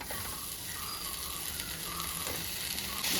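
Sizzling from potatoes added to frying spice powder in a pan for Kerala-style potato mezhukkupuratti, a steady close hiss of frying oil with faint stirring, rising slightly at the end.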